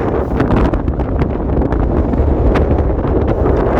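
Strong wind blasting across an exposed mountain ridge in Snowdonia, a loud, constant roar with gusty buffeting against the microphone.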